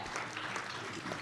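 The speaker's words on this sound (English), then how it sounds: "Give her a round of applause." Crowd applause at a junior world powerlifting championship for a women's heavyweight lifter, a faint, continuous, distant patter of clapping filling a large hall.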